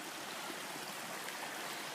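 Poso Creek water rushes steadily past a big boulder, a continuous soft broadband flow with no voices.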